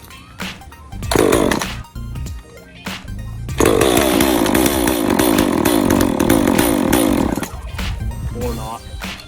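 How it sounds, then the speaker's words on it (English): A chainsaw snarls through a few short revs, then roars into one loud, sustained run of about four seconds before cutting back to sputtering bursts. "chainsaw"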